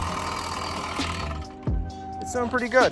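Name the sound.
motorized bike engine idling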